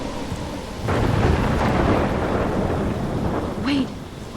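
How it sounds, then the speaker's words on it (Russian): Thunderstorm in the video game Life Is Strange: steady heavy rain with a deep rolling thunder rumble swelling in and sustaining, loud and enveloping, with no voices. "Я попала в бурю, как я здесь оказалась?"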